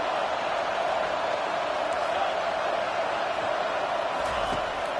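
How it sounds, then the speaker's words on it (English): Stadium crowd at an American football game roars steadily behind the defense on third down, a dense, continuous wall of cheering and noise throughout, with no pauses. "Decibels rising as the crowd gets behind this defense on 3rd down."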